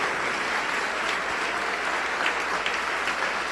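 A church congregation applauds during a sermon, a dense, even wash of clapping from many people, sustained and fairly loud throughout with no speech over it.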